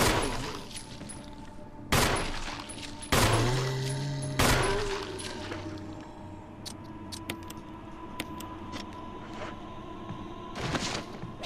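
Small 9mm handgun in Resident Evil firing a few sharp, loud shots spaced seconds apart, each with a ringing tail, between quieter thuds and ambient noise.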